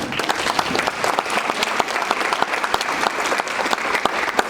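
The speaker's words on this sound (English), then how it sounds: "Let's give them a round of applause." Dense, steady audience applause fills a hall at a 2021 State of the City address as five honorees stand, loud and sustained with no talking throughout.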